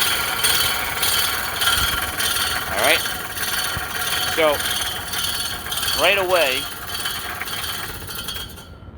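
A reel mower is being backlapped, its reel spinning backward against the bed knife: a steady mechanical whir broken by repeated rising squeals as one side makes contact. Someone speaks briefly.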